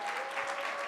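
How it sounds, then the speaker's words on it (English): An audience at a college student address claps in a steady, dense round of applause. The sound is even and sustained for the whole brief moment, with no break. "can we give the organizers a round of applause?"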